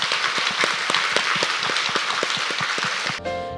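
A congregation at a church service applauds vigorously, a dense, steady roar of many hands with sharp individual claps standing out, cut off abruptly near the end as music begins.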